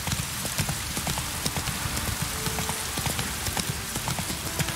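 Horse hooves clip-clop steadily in The Witcher 3 video game, a rhythmic series of close, distinct footfalls over a constant hiss of falling rain.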